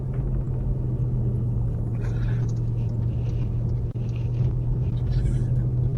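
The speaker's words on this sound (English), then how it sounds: "I think we have a lot of road noise." A loud, steady low rumble of tyres and engine fills the cabin of a moving Porsche wagon, constant throughout, with faint higher hiss riding on top.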